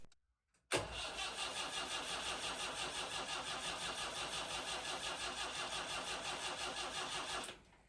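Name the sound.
boat diesel engine starting after injector repair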